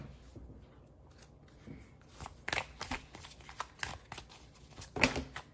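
Playing cards riffle and snap in a few short bursts, close by, with soft handling noises between shuffles.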